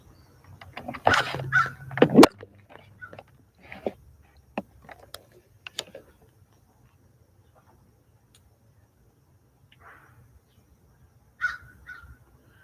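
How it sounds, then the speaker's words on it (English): Crows come close and caw in a burst of several harsh calls near the start, then a few scattered caws, with quieter calls later over a faint steady insect buzz. "When I tell you, the crows literally come right up here"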